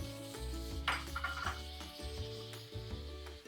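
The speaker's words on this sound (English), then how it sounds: "Now the onions are fried. I'm adding the tomatoes" Tomatoes going into a pan of fried onions for a spicy pomfret fish curry, giving a brief rustling scrape and soft clatter over steady low background music.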